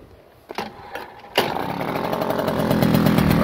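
A 1979 Tomos A3 moped engine coughs through a couple of failed pulls, then catches and settles into a steady, close, buzzing idle that holds loud and even to the end.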